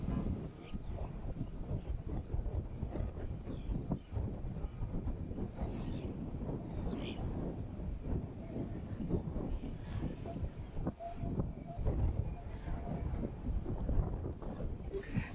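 Steady wind gusting across an open residential lot, a continuous low rumble buffeting the microphone throughout, with no one talking.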